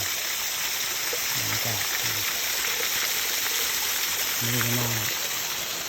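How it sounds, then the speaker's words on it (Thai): Tat Ton waterfall in Tao Ngoi district, Thailand, gives off a steady, broad rushing roar that fills the whole clip, while someone talks briefly over it. "มาเที่ยว น้ำตกตาดโตน"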